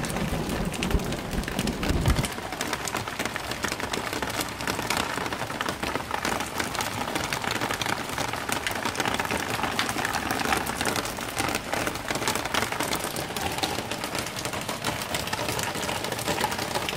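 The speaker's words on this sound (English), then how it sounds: "only a bit of rain." Light rain falls outdoors over a garden during a decking stairs build, a steady, even patter of drops spread across the whole stretch with no voices.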